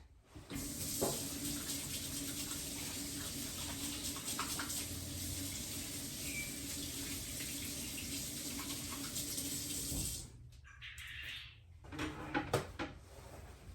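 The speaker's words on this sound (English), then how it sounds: "I'll wash my hands." Hands are washed under a running kitchen tap, with a steady stream of water splashing into the sink for about ten seconds before it shuts off, followed by a few clattering kitchen sounds.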